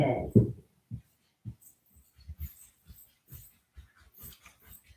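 Dogs in a house give soft whimpers, snuffles and grumbling noises in short scattered bursts, close by and fairly quiet.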